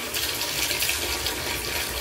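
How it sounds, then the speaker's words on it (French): Water runs from a tap to fill a bath, a steady, close hissing gush with no talking over it. "je vais me faire un petit bain"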